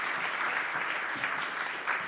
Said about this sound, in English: give a big round of applause to all of our amazing presenters and panelists today